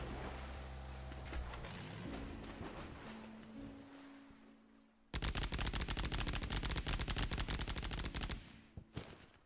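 Gunfire rattles in the Sunkenland video game: after a quieter stretch of low rumbling, loud rapid automatic bursts start abruptly and fire almost nonstop for several seconds before cutting off.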